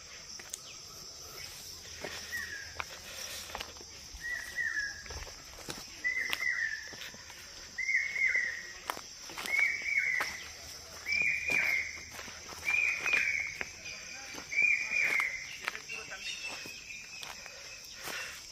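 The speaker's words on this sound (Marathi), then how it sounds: "खूप साऱ्या पक्ष्यांचे सुमधुर आवाज येत आहेत." Birds sing in a dense monsoon forest, with a repeated short whistled call every second or so over a constant high insect drone, plus scattered rustling and footsteps nearby.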